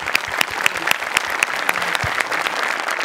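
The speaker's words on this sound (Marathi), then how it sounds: "जोरदार टाळ्या" A studio audience at a stage comedy show breaks into loud, sustained applause, a dense steady patter of many hands clapping together at close range.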